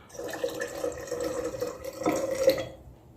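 Tap water runs steadily into a measuring cup, filling it to about one cup for homemade hand sanitizer; a continuous close splash that rises slightly in pitch and stops near the end.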